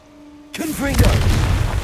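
A Confringo blasting spell goes off in a Harry Potter video game, opening with a loud, sudden boom after a brief quiet lead-in and giving way to a sustained rumbling blast while a voice talks over it.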